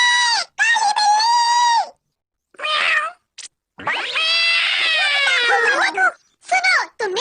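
A black cat in a Doraemon cartoon yowls loudly up close in a series of drawn-out, wavering cries separated by short silences.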